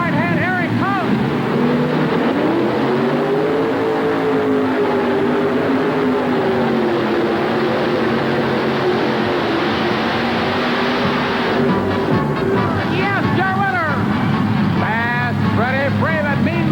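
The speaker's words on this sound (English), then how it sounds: "He'll roll that tractor out about 5 feet. He'll bury that throttle on the right hand." A 7,200-pound modified dragster pulling tractor roars at full throttle in a sustained, loud engine howl that holds steady and then rises in pitch, with a crowd and an announcer's voice underneath.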